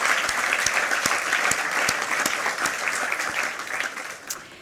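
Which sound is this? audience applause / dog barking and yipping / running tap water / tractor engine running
audience applause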